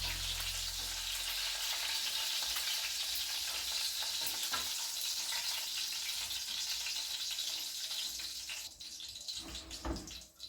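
Chicken pieces browning in a hot pan for a roast chicken, a steady loud sizzle and frying hiss throughout with occasional stirring clatter near the end, no talking.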